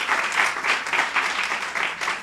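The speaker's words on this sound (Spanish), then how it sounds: "¿podemos hacer un aplauso?" An audience at a talk by the surgeon Elena Barraquer breaks into brisk applause, a dense clapping sound that swells and dips in quick pulses over a couple of seconds.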